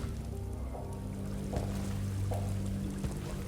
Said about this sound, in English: Why is there this waterfall slash pool in the center?